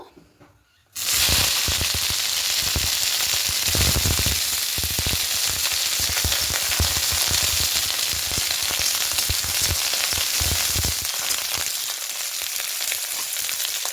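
Cauliflower florets dropped into hot oil in a pan, bursting into a loud, steady crackling sizzle after a second of quiet and holding strong throughout, with dense popping spatter.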